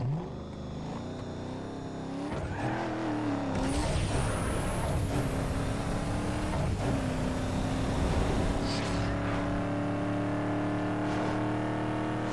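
A Lincoln Navigator's 5.4L V8 in Need For Speed Underground 2 is floored on a drag run, the engine revving up in rising sweeps with quick shift breaks between gears, loud and close with no talk.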